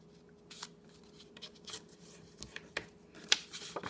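Paper creased and folded by hand for a one-sheet mini album: soft crinkles, slides and sharp little presses come in irregular bursts, close and quiet, with no voices.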